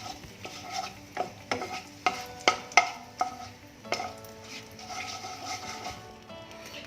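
A bay leaf and a dried red chilli fry in hot white oil with a soft sizzle, while a spoon scrapes and taps the pan several times in quick, close strokes.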